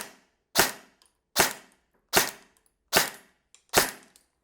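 A Cybergun SCAR airsoft rifle on semi-automatic, powered by an 11.1 V LiPo battery and loaded with 0.20 g BBs, fires five sharp, evenly spaced shots into a chronograph at close range, with silence between each crack.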